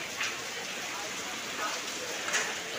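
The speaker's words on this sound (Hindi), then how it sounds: "अभी ना बाहर ना बहुत बारिश हो रहा है।" Heavy rain mixed with falling hail outside makes a dense, steady hiss, and a few sharper taps stand out from it. The sound is moderately loud and stays constant.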